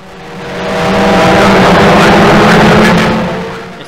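Historic Formula Ford race cars race past at Brands Hatch toward Paddock Hill Bend, their engines swelling into a loud, buzzing roar as they approach, peaking close by and then fading away again.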